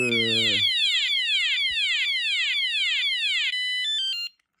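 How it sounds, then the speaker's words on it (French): A chain padlock's built-in alarm shrieks in a loud, repeating falling electronic chirp, each sweep pulsing about twice a second, shifting to a stuttering beep before cutting off. A voice is heard briefly at the start. "Si on veut désactiver l'alarme."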